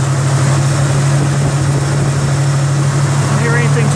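A 1966 Chevy Nova SS engine idling with lifter noise, a constant close low hum throughout, with a voice talking over it.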